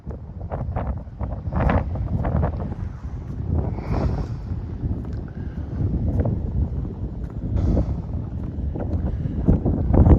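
Strong, steady wind buffets the microphone outdoors on a breezy hilltop walk, a continuous loud rumble with gusty surges throughout and no talking.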